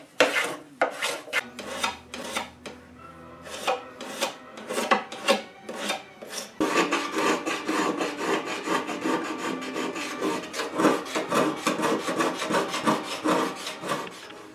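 Scraping the binding on a Gretsch Geo Van Eps guitar fretboard during restoration, a long series of close, rhythmic rasping strokes, sparse at first and then fast and continuous, with no talking.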